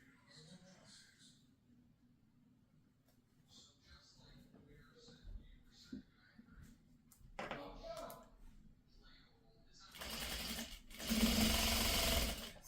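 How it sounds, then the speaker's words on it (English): A sewing machine stitches scrappy fabric triangles together for a sawtooth star quilt, a fairly loud steady whirring run near the end after a stretch of quiet talking and handling noise. "So I'm sewing together my Scrappy triangles."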